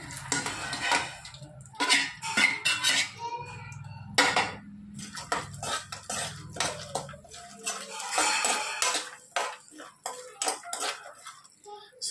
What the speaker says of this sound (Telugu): ఇప్పుడు ఇందులో వచ్చేసి పిస్తా, బాదం, జీడిపప్పు మొత్తం వేసుకొని కొంచెం లైట్ బ్రౌన్ కలర్ వచ్చినాక ఫ్రై చేసుకోవాలి